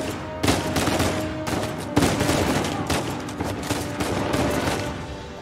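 Rapid bursts of automatic gunfire in the game Uncharted 4, loud and near, firing in clustered volleys with short gaps between them.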